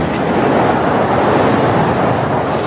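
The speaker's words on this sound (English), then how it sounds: "130 kilometres an hour, this wind tunnel's top speed." Wind roars through a tunnel at its top speed of 130 km/h, a loud, unbroken broadband rush that holds steady throughout.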